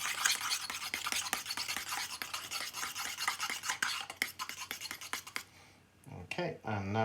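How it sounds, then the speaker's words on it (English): A spoon stirs thick sourdough starter of flour and water in a container, making steady close scraping and rasping strokes for several seconds before a voice begins speaking at the end. "Just give it a good stir."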